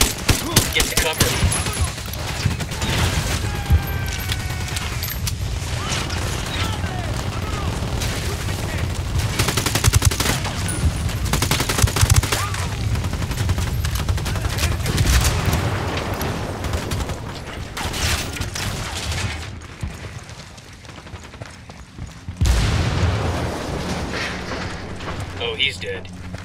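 Gunfire in the video game Ghost Recon Wildlands, with loud, dense bursts of automatic fire and shots rattling almost continuously, dropping off briefly near the end before resuming, while in-game voices speak over the shooting.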